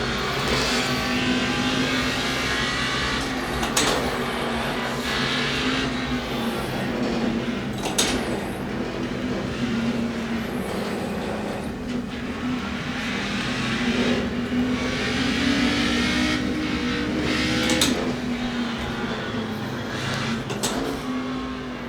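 A race car engine in a racing simulator game drones steadily and loudly, the pitch rising and falling with repeated revving and gear changes, with no talk over it.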